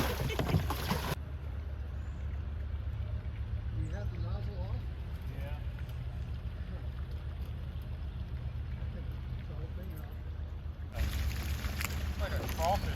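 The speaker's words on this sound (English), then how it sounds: "It was really difficult for him to even paddle a few feet." A boat paddled through thick, overgrown vegetation on a homestead pond, with soft sloshing and rustling of plants against the hull over a steady low rumble, framed by louder wind noise at the start and end.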